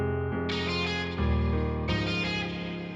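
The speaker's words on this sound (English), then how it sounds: "And then there's this guitar as well." Guitar part of an emotional beat in FL Studio, treated with EQ and reverb: sustained, rich melodic chords changing every second or so, steady and fairly loud with no voices.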